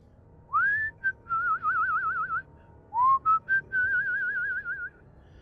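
An executioner in an audio drama whistles a slow, wavering tune in two long phrases, each opening with a rising glide and carrying a warbling vibrato, clear and close against a quiet background.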